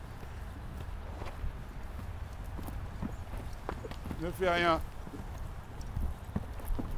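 A horse's hooves clip-clop at a steady walk during a riding coaching exercise, faint and soft under a riding coach's spoken instructions, with a brief vocal sound partway through.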